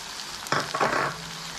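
Onions and masala powders being stirred in a frying pan over low flame, a short scraping stir with a soft sizzle rising for about half a second over a quiet background hiss.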